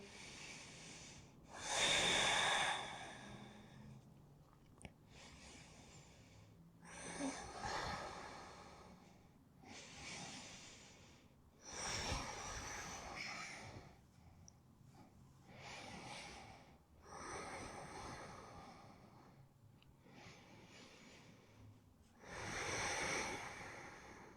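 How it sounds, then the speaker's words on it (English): Deep, slow breaths during a full-body yoga stretch, each inhale and exhale a soft airy rush close to the microphone, repeating about every few seconds with quiet gaps between. "Breathing deeply here."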